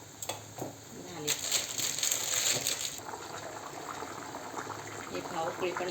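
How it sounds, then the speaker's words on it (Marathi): Kidney bean curry (rajma bhaji) boiling in a pot on the stove, giving a steady bubbling simmer that holds at a constant level from start to finish. "हे पाव उकळी पण आली, भाजी रेडी झाली."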